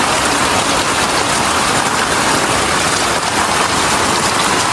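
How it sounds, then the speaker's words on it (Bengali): Heavy rain in a village, pouring steadily onto a tin roof with light wind, a dense unbroken roar of drops close by and loud, no voices. "আরও বেশি বৃষ্টি হয়েছে তার অবস্থা কী ছিল মনে করেন আর হালকা হালকা বাতাসও আছে বৃষ্টির সাথে"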